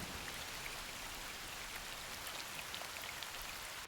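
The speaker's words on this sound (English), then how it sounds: "Things like raindrops hitting large bodies of water can now sound more natural." Raindrops falling on a large body of water in Hytale: a steady, dense hiss of rain with scattered brighter droplet pings, even and continuous throughout, with no voices.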